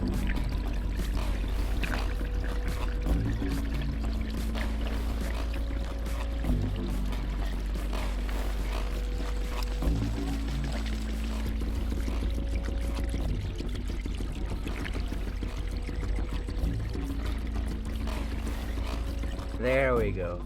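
An ore-crushing gold processing mill grinds quartz with water poured in, producing a constant loud mechanical churn with periodic rhythmic shifts, while a voice talks over it.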